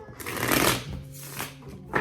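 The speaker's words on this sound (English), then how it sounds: "I'm going to shuffle 3 times" Tarot cards are shuffled by hand in quick riffling bursts, a papery flutter that swells and fades with a final snap near the end, close and fairly quiet with no talk.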